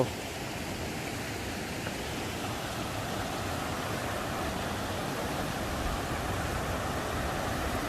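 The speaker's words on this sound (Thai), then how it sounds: "น้ำตกธรรมชาติ" Constant broadband rush of falling water, steady and unbroken, like a natural waterfall heard up close with no voices.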